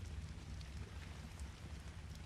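Steady rain falls in the video game Ark: Survival Ascended, a soft, even hiss of drops that runs unbroken and fairly quiet throughout, with no voices.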